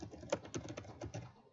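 Fingers type long URLs on a computer keyboard, a quiet, uneven patter of key clicks in short bursts with small pauses, close and alone.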